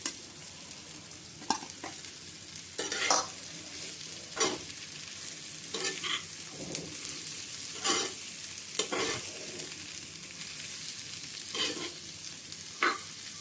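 A spoon scrapes and stirs mashed potatoes in a frying pan with irregular strokes every second or so, over a faint, steady sizzle.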